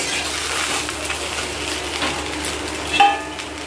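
Fish finger roll filling being stirred in a hot pan with garam masala, a soft continuous sizzle with light scraping of a utensil against metal and a brief clink near the end, close and unaccompanied by speech.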